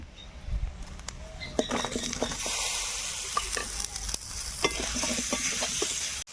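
Cut raw mango pieces frying in a turmeric spice paste, a bright continuous sizzle broken by repeated clinks and scrapes of a stirring spoon against the pan.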